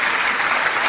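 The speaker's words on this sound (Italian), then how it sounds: "Facciamo un applauso per il nostro Loris" Studio audience applause on an Italian radio-TV show, a brief steady wash of clapping that stays even and fairly loud throughout.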